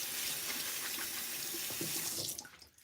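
A bathroom tap runs to wet a beard, a strong, close, steady stream of water that suddenly stops near the end with no talking.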